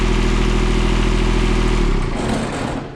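A John Deere F935 mower's 22-horsepower 3TNA72UJ diesel engine runs loud and close with a steady low throb, then drops in speed and volume near the end as the throttle is pulled back.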